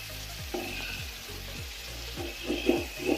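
Tomatoes go into lightly browned onions in a pot for Kabuli pulao, sizzling and frying steadily, with a few stirring scrapes and soft clinks close by.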